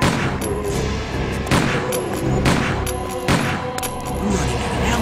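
Gunfire rings out in the PlayStation game Resident Evil 2 as a rapid series of sharp shots that crack repeatedly over roughly five seconds amid game sound effects, fairly loud with no speech.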